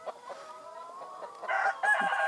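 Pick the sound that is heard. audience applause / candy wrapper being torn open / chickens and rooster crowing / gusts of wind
chickens and rooster crowing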